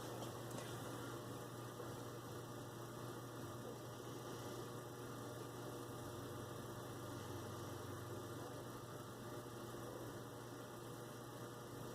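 Toyota Supra engine idling in a racing game on a Nokia 3.1 Plus phone, a faint, steady low drone that continues unchanged throughout with no talking.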